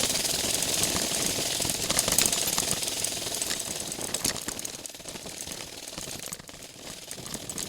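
A Kawasaki KLR motorcycle engine running rich on the rough mountain road of Engineer Pass, a steady rapid chugging and knocking drone with irregular sputters, loud and close throughout, with no speech.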